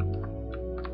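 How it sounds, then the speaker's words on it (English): Clicks of a noisy mechanical computer keyboard, a few quick keystrokes close up over a steady low hum, with no talking. "You can hear my keyboard because it's a mechanical keyboard. It's extremely noisy"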